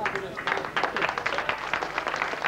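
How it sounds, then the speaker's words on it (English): Audience applause at a first live gig by the ukulele duo Wavestar in Sheffield, a steady dense patter of clapping filling the room at moderate level with a voice talking over it. "Thank you for the applause anyway."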